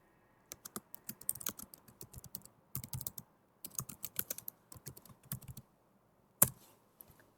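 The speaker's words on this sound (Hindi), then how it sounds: "इसमें मैं लिखता हूँ दिस इज शेरी," Quick bursts of key clicks come from a computer keyboard as HTML code is typed during a web development lesson. Near, crisp tapping runs in uneven runs with short pauses, and one sharper keystroke stands out near the end.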